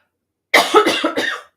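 A single close, sharp cough breaks a moment of silence, followed by a short rough trailing cough.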